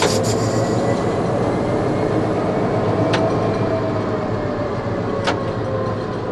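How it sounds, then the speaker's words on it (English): Locomotive 8136's diesel engine rumbling steadily during a brake test, a loud, continuous low drone with brief high squeals or hisses near the start and end, no talking. "The engine should return to idle."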